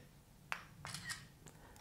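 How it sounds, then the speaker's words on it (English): Phone camera shutter sound triggered by the remote button of an Mpow PA194A selfie stick tripod, a faint click followed by a short, soft shutter-like burst, close and quiet, no talk. "check now to see if this shutter button here mutes your phone when you are taking a picture"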